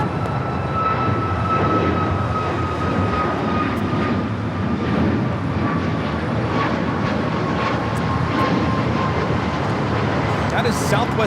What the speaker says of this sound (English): 3411 taking off to Phoenix, Arizona on the MAX 8